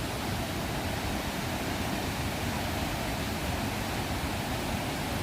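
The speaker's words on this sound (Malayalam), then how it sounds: "ഇവിടെ വെള്ളം ഒഴുകുന്ന ആ ഒരു ശബ്ദം" Water rushes over rocks near a large boulder in a quiet outdoor spot, making a steady, dense, unbroken roar with no voices.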